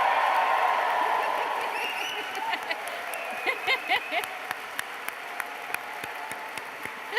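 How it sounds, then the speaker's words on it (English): A hall of graduates at a graduation ceremony bursts into loud cheers and applause that gradually fade into scattered claps and brief voices. "I would like you to give me your loudest and best cheer"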